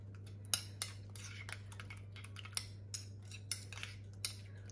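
A utensil stirs freshly grated garlic and parsley in a bowl, giving soft, irregular clicks and scrapes against the dish over a constant low hum, close and fairly quiet.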